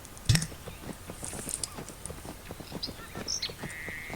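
Hoofbeats of a horse in the Alexandra Ledermann horse-riding video game, a steady clip-clop of soft footfalls at moderate level with a few game chimes and tones layered over them.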